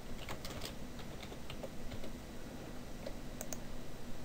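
Computer mouse clicking in the GIMP image editor, a few quick light clicks scattered over a soft background hiss, close and quiet, with no talking.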